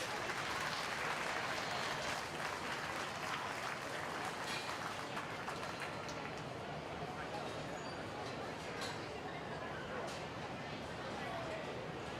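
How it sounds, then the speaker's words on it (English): Crowd applause for feeder pig exhibitors at a 4-H market swine show, a dense, steady clapping wash lasting the whole stretch at fairly even volume in a show barn, with faint background chatter. "Give them a nice round of applause if you would, please."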